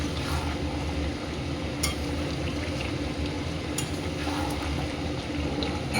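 Fried potato chips tossed into a hot pan and stirred with other food for a wedding-anniversary meal, giving a steady dense sizzle with a few sharp scrapes and clinks, fairly close and with no talking.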